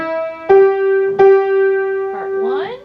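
A piano plays the closing line of the folk song Oh! Susanna in a beginner lesson, a few sustained struck notes with a voice briefly entering near the end.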